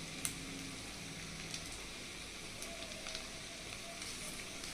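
Chicken sizzles and fries in a pan with a faint, steady crackle and a few small pops.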